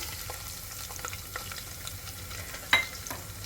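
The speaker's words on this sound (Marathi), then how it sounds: "लसूण अगदी थोड्या वेळ आपण फ्राय होऊ देऊया" Sliced garlic frying in hot oil with mustard seeds and cumin for masale bhat, a quiet steady sizzle with faint crackles and one sharp louder pop near the end.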